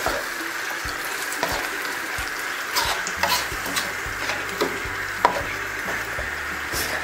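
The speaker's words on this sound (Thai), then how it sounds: "เติมน้ำด้วย" Water added to a pot on high heat while cooking northern Thai nam prik ong, a steady sizzling and bubbling wash with small clinks and stirring taps, fairly close, no talk.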